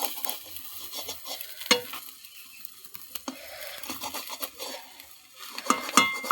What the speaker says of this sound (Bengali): ডিম ভাজা করেছি।